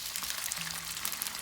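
Beef slices sizzle in a wok of hot oil, a dense, steady crackle of frying that carries on without pause.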